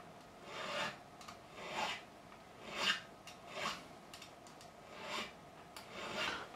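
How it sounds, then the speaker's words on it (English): Small Stumac beveling file rasping along the fret edges of a 1972 Gibson Les Paul Deluxe, heard as about seven evenly spaced, close-up strokes. "that's using this little Stumac file specifically for this job."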